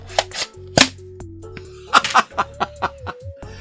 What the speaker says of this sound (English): that this thing pops out and can fire across the room